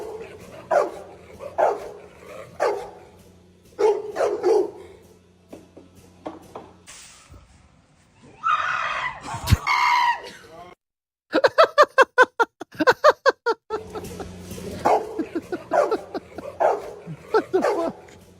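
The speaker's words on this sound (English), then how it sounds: "Okay, so how my female dog barks." A recording of a female dog barking plays back, with repeated sharp barks and yips in a quick rhythmic run, fairly loud, mixed with stretches of other sounds from the playback.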